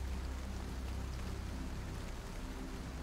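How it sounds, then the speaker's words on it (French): Heavy rain falling outside, a steady dense roar of rainfall that stays constant and even throughout, with no voices. "Dehors, la pluie s'intensifiait"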